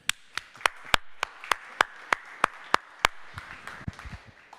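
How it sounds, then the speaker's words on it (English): Rhythmic hand claps ring out at a conference, about a dozen sharp, evenly spaced claps that fade into looser scattered claps at the end. "I want to give you guys a round of applause for being here so early"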